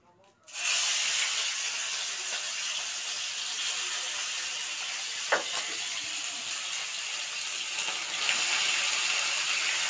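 Chicken pieces dropped into hot oil for Kolkata chicken rolls, bursting into a loud, steady sizzling hiss that holds throughout, with a brief crackle midway.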